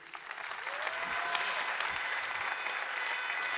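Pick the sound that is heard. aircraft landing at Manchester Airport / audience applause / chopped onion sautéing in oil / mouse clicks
audience applause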